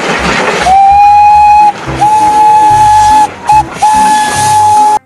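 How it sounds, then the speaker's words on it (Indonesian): Toy Thomas train whistle, a loud steady tooting tone held in three long blasts with brief gaps, over a hissing, rattling toy-train background. "yang ini kereta Thomas"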